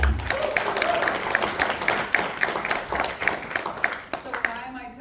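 An audience applauding at a panel discussion, steady broadband clapping filling the room for several seconds with a few voices mixed in, fairly close and even in level.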